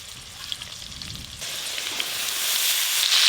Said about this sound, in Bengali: এর উপরেই কিন্তু সেদ্ধ করে রাখা ফুলকপি দিয়ে একসঙ্গে সব কিছু ভালো করে ভেজে নেব